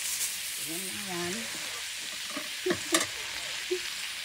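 Shredded cabbage stir-fried for beef pigar pigar hisses in a steady frying sizzle, with a few scraping stirs of the spatula near the end and a voice briefly audible at the start.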